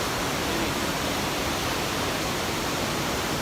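A steady, powerful rush of water pours through Funagira Dam on the Tenryu River, a loud, even roar that fills the whole stretch with no talking.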